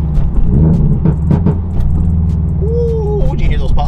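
A car slows down with a loud, close engine rumble, and a few sharp exhaust pops crackle through as it decelerates, with a voice speaking over parts of it.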